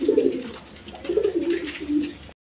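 Large Rajgolla pigeons coo close by in a few low, throaty rolling phrases, one after another, in an otherwise quiet setting.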